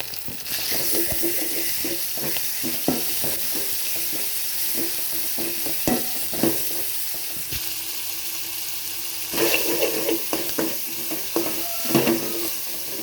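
Tomato and onion sizzle with salt in a pan for a Maula fish curry, with a steady frying hiss and intermittent scraping stirs of a spoon, close and unaccompanied by voices.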